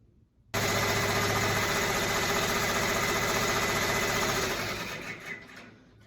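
Embroidery machine starting up to stitch an in-the-hoop face mask design, switching on abruptly into a loud, steady mechanical whir and rapid needle clatter that holds, then eases toward the end.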